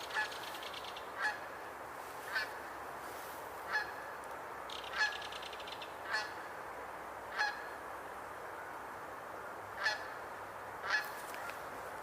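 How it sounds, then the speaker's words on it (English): A single goose honking while flying overhead outdoors: faint, evenly repeated honks about every second, over a steady wash of background noise. "one single goose is flying around up above"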